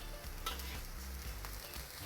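Onions frying in a wok for ketchup fried rice with sausage, a steady close sizzle with soft stirring scrapes throughout, no voices.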